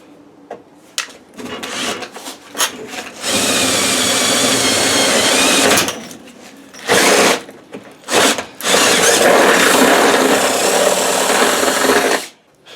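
A power drill enlarges a hole for a motor shaft in a Masterbuilt smoker, running in several loud sustained bursts with short pauses and brief clicks between them. No one talks.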